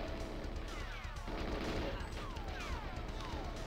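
Enemy soldiers firing guns in GoldenEye on the N64, a steady clatter of gunfire with ricochet whines over busy game noise, moderately loud throughout.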